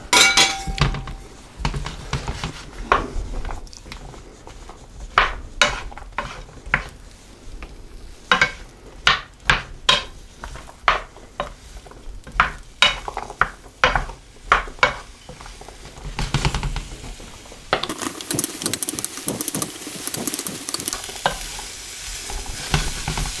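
Asparagus and sliced mushrooms frying in a hot pan, with a steady sizzle under repeated rhythmic scrapes and clacks of a utensil stirring against the pan, close and loud, the hiss swelling louder near the end.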